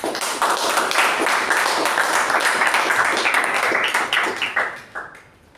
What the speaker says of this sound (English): Let's give a thunderous round of applause for all the 4 champions of meeting quality